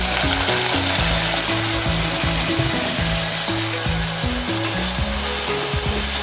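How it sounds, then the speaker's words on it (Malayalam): Sliced onions frying in hot coconut oil in a home kitchen, a loud steady sizzle and crackle with faint stirring clatter, continuous throughout with no talking. "ഒരു വെളിച്ചെണ്ണ നന്നായി ചൂടാവട്ടെ അപ്പോൾ അത് എണ്ണ ചൂടായിട്ടുണ്ട് നമുക്ക് ഇതിലേക്ക് സബോള ചൂടാം"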